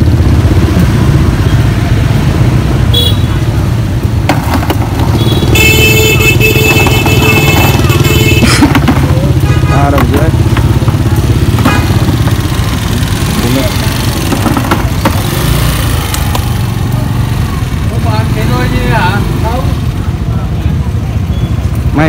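An old motorcycle engine runs steadily at close range, a loud continuous low rumble with clattering mechanical ticks, while people talk over it throughout.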